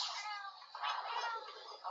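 Cat companions in the Monster Hunter Portable 3rd video game meow in a continuous, faint, drawn-out mewing call, heard alone through the game audio.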